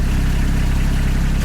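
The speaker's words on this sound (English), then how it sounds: "That's the sound of a Kubota RTV utility vehicle." A Kubota RTV utility vehicle engine idles close by with a steady, loud low rumble that holds even throughout the short stretch.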